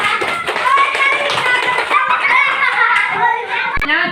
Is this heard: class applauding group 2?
yes